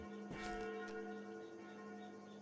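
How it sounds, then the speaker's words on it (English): Church bells toll in a video game setting, a few resonant strikes with long sustained ringing tones that hang and slowly fade, with no talk over them. "Those sound like the church's noontime bells"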